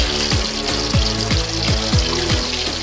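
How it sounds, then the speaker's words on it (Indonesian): Hot oil in a pan crackles and spatters loudly and steadily around frying fish, making a dense, continuous sizzle that stays close throughout. "begitu ikan dimasukkan, minyaknya langsung meletup"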